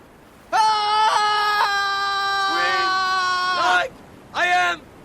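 A man lets out a long, loud, strained scream, breaks off briefly, then gives a shorter second yell, with no other voices.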